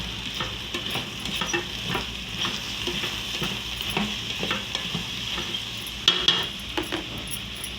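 Chicken masala and mutton masala sizzling in a pan for capsicum biryani, with a steady hiss broken by repeated scraping strokes of a spoon and a few metallic clinks.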